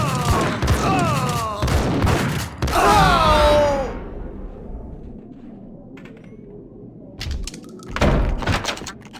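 Gunfire in the Max Payne video game, with a sharp burst of shots and ringing impacts at the start, then a near-silent lull before another loud crack near the end.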